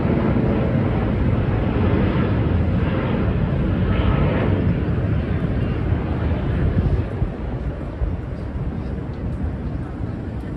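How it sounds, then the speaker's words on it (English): A plane passes over downtown Miami's Brickell district as a steady, loud broadband roar fills the air, thinning toward the end, with wind buffeting the microphone. "That was a cool view, the plane going by."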